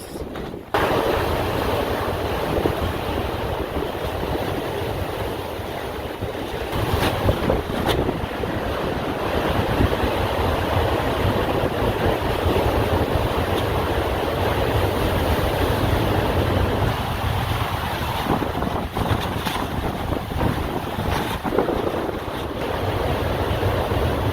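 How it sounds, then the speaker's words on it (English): Big ocean waves crash and roar steadily near a shipwreck on the shore, with strong wind buffeting the microphone throughout and no voices. "Yeah, big waves."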